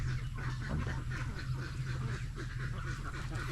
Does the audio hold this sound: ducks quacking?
yes